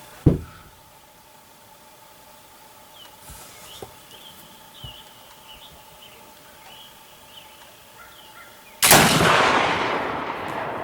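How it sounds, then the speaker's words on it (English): A Kibler Woodsrunner muzzleloader rifle fires a 90-grain charge, one sharp, loud crack at the start that fades into quiet outdoors with faint birdsong before a loud broadband burst near the end. "Second shot with 90 grains."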